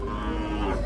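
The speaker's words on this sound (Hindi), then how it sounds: "यहाँ पे भैंसे हैं।" At a cattle market, a buffalo lets out a single low, sustained moo that fills the short moment, heard close and fairly loud with no talk over it.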